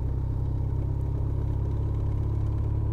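The engine of a Kawasaki ZZR1400 motorcycle lugs below 1,000 RPM, making a loud, steady low rumble with a fast regular pulsing throb, close and alone.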